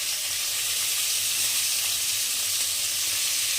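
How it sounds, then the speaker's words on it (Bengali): Cauliflower florets frying in oil in a pan, lightly salted, give a steady, close, even sizzle with a soft hiss that holds without break throughout. "ফুলকপিটা আমি একটু লাল করে ভেজে নেব।"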